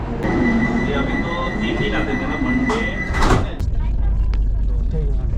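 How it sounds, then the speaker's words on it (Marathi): Vande Bharat Express train heard from inside as it runs from Dadar, a loud steady rumble with a brief clattering burst midway, voices murmuring underneath. "आता दादरवरून ट्रेन आपली आहे"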